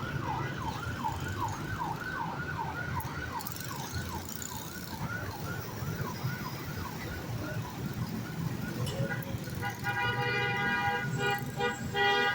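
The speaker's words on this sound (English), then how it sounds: "Uh-oh. Ambulance!" An ambulance siren passes along a city street in Dumaguete. It wails in a fast, repeating up-and-down pattern, loud and fairly close, over traffic rumble, and switches to a harsher horn-like tone near the end.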